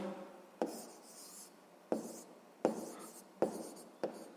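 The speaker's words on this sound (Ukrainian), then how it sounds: "Записуємо тоді додатні числа." Numbers written by hand during a sixth-grade maths exercise, several quiet separate taps and strokes of a pen on paper, spaced about a second apart, near and soft, with no speech.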